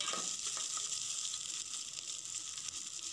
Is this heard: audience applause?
no